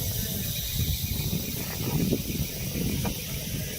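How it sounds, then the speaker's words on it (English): A large canebrake rattlesnake rattles in a steady, continuous dry buzz that sounds close and holds evenly throughout, with no voices. "It's a big canebrake rattlesnake. You hear those rattles?"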